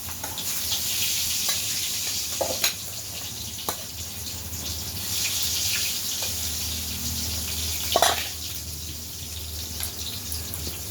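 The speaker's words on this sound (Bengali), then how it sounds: "তেল গরম হয়ে গেল, দিয়ে দিলাম বেগুন।" Steady sizzling of eggplant slices frying in hot oil, a constant hiss with a few brief clinks and knocks of utensils.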